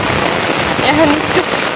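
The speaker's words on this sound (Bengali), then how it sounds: "এখন আবার জোরে বৃষ্টি হইতেছে, অনেক জোরে যাচ্ছে, হালকা বাতাসও হইতেছে।" Heavy rain falls hard with a light wind, a loud, continuous wash of drops drumming on surfaces, with a few faint tonal sounds briefly rising over the steady downpour.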